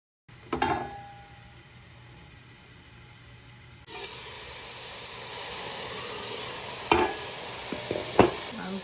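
Garlic and broccoli stems sizzling in a hot pan for broccoli rice, with a spoon scraping and clinking as they are stirred. A quiet start with an early clatter gives way to a steady, loud hiss.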